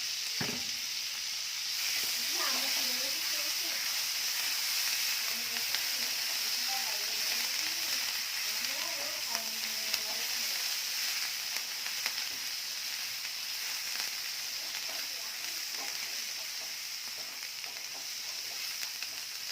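Butter, garlic, ginger and green chili sizzle and fry steadily in a pan, with occasional stirring scrapes, a continuous close hiss filling the whole stretch, and no talk over it.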